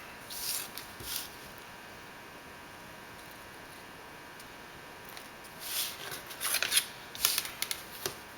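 A blade slices composite foam core at an angle for a model plane's horizontal tail, producing faint, short rasping cuts in a few scattered bursts against a quiet room.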